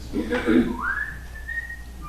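A person whistles a short tune, a few warbling notes sliding into a long rising held tone, close and clear against a quiet background.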